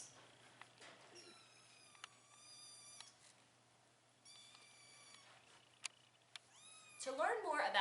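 Several small kittens meowing, high thin cries coming in clusters with quiet gaps between them, growing into louder busier mewing and rustling near the end.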